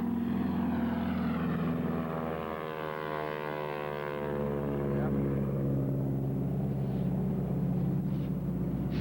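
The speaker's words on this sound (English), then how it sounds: "Watch that plane" A propeller airplane flying low overhead during a goose hunt, a loud continuous engine drone with a shifting pitch as it passes, voices talking over it.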